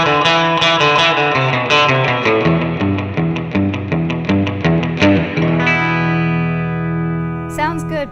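An electric guitar plays a twangy surf-style picked melody through a Fender Mustang GT amp with a surf preset, twin reverb and '63 spring reverb, notes ringing with a wet splashy tail before a final spring crash.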